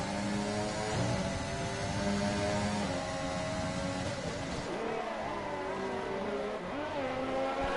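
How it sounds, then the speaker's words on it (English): Ferrari Formula 1 race cars in a racing video game: a continuous high-pitched engine whine with shifting revs, two cars running close together in a steady, droning stream of engine noise. "So it's like the mid-2000s all over again with Schumacher and Barrichello, the two Ferraris out in front."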